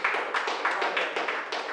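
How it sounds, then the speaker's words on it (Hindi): A studio audience at a Hindi poetry event gives applause for the host, Anmol Shant. It comes as a steady patter of quiet, mid-distance clapping with uneven swells and no voices. "एक और बार ज़ोरदार तालियां बजाएंगे अनमोल शांत के लिए"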